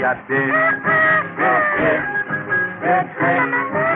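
A chicken clucks and crows in an old, band-limited Brazilian radio recording. The calls come as loud, continuous bursts with short gaps and sound thin and lo-fi.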